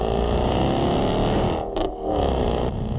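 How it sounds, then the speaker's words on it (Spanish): A loud muscle car V8 engine roars and revs steadily, briefly dipping before climbing again, with a gritty, distorted growl throughout. "Cuando lo pisas, grita, te lo juro, es el sonido más bello que he escuchado en mi vida de un auto."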